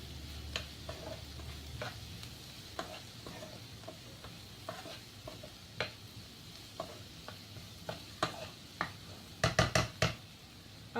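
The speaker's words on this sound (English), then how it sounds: "we'll give all of this a very good mix" Spices being stirred into vegetables cooking in a hot pan: a steady sizzle under a run of repeated scraping stir strokes, close and moderately loud, with a quick cluster of sharper scrapes near the end and no talking.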